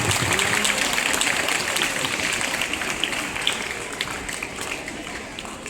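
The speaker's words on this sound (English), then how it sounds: "I request all of you to clap for them." An audience at a school investiture ceremony claps together in a steady, fairly loud patter that continues throughout and slowly fades toward the end, with faint voices mixed in beneath it.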